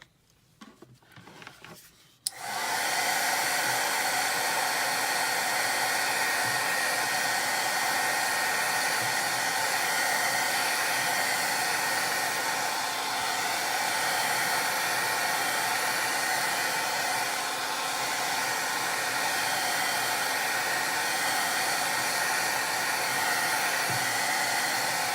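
A hair dryer runs steadily and loudly for over twenty seconds, drying a distress oxide ink card, after a brief rustle of handling at the start.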